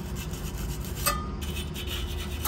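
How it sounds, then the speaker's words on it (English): Stiff brush scrubbing brake surfaces clean on an Acura RSX during a big brake upgrade, a steady close rasping rub that continues without a break. "a good thing to do is to get a brush and make sure all of your surfaces are clean."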